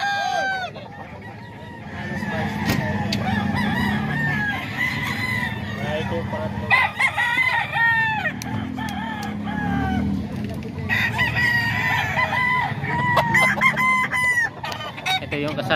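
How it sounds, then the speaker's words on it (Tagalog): Roosters at a gamecock market in Bocaue crow repeatedly and loudly, long rising calls overlapping one another, with clucking and faint talk from people in between. "Ito manok ni Kuya Vic mga ka-idol"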